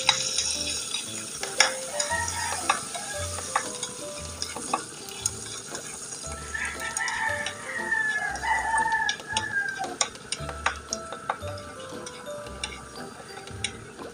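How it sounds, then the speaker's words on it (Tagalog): Minced garlic sautés in melted butter in a frying pan, a constant close sizzle with repeated spatula scrapes and taps on the pan. A rooster crows faintly in the background and there is no talking. "Tapos sigisa natin yung ating bawang."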